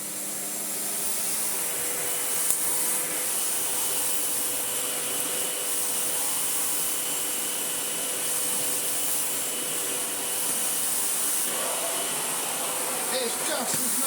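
A Sebo Airbelt C3 vacuum cleaner with an ET-H powerhead runs on a rug, giving a steady, fairly loud whooshing whine that holds evenly throughout.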